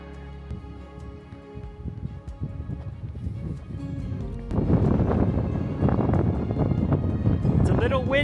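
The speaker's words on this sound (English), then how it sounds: "It's so windy." Wind buffets the microphone at ancient ruins in Spain, rumbling low and gusting harder partway through, with faint talk underneath.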